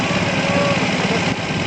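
Small engines idle and buzz steadily in desert dunes, a loud, continuous high-pitched drone with a slight dip near the end, no voices over it.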